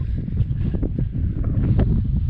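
Wind blowing on an open mountain trail in the western Alps during a bike tour, a steady low rumbling roar with gusty buffeting against the microphone, continuous and fairly loud throughout with no talking.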